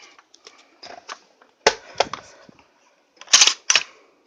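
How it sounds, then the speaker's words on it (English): An SKS rifle's magazine being removed on a table, heard as a series of sharp metallic clicks and clacks, with two louder clusters of clunks near the middle and end of the handling. "Take your mag out"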